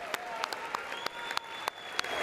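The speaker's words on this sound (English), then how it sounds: "It sounds like it's only 2 or 3 claps through my headphones" Sparse, scattered clapping from a handful of people at the State of the Union, a few distinct sharp claps spaced irregularly over a steady room hum rather than a full ovation.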